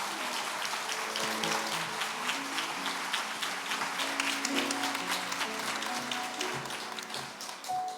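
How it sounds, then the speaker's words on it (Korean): A church congregation applauds warmly during a Sunday worship service, a steady dense wash of clapping that fills the whole stretch without pause. "따뜻하게 박수로 격려해 주시면 감사하겠습니다"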